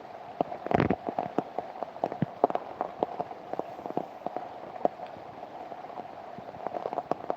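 Steady patter of rain with scattered sharper drops striking a nearby surface, moderately quiet, with no voices.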